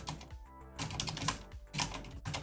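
Rapid typing on a computer keyboard, close and fairly loud, with irregular bursts of key clatter separated by brief pauses, no voices.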